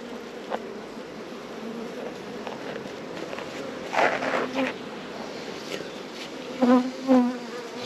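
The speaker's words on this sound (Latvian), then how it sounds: "Nu, tātad šeit mēs attīram rāmi no bitēm." Honey bees drone in a steady, dense buzz around a hive frame being brushed clean of them, with scraping and handling noises from the beekeeper's work close by.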